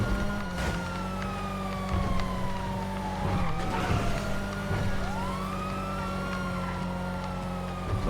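A police car siren wails in FiveM, the GTA V mod, its rising and falling tone sweeping continuously over a steady engine drone for about eight seconds, loud and close.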